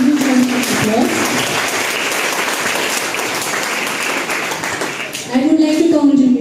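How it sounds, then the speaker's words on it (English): Students at a school investiture ceremony applauding newly installed school leaders, a dense, steady roar of many hands clapping for several seconds, with a voice speaking at the start and end. "All the students, please give them a huge round of applause."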